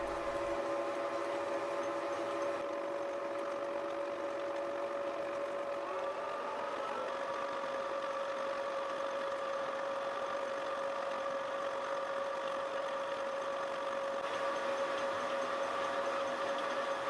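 A tilting mill table machine runs at 270 RPM with a counterweight, giving a steady mechanical hum with a sustained tonal whine that holds evenly throughout, alone and fairly faint.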